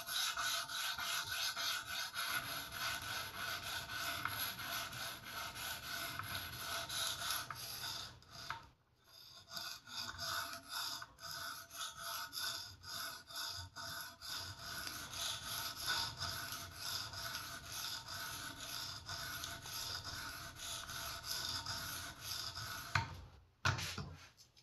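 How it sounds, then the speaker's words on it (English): A folding knife edge is ground on a coarse 250-grit diamond stone of an Edge Pro Apex sharpener, giving a steady close rasping scrape in continuous strokes with one brief pause. "I'm going to cut like the very edge of it. And I'm starting on the 250 diamond stone here."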